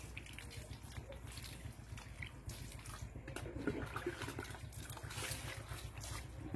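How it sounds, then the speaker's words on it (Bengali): Water is poured over a screen-printing screen to rinse off soap, a continuous splashing trickle heard fairly faint and close, steady for the whole span with no talking. "এবার আমি জল দেওয়া মাত্রই, জলটা দিলে স্কিনটা পুরো ক্লিন দেখতে হবে"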